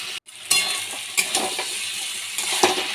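Spice paste of ground ginger, cumin, dried chilli, garlic and onion frying in a pan, a steady close sizzle with brief stirring scrapes and a couple of louder clinks, no talking.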